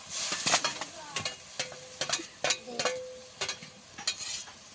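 A raw mango kasundi mixture of chopped green mango, green chilli, ginger and ground mango paste is stirred in a pan. The spoon gives a series of short, fairly quiet scraping strokes in an uneven rhythm, with no talking.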